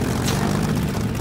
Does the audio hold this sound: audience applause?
no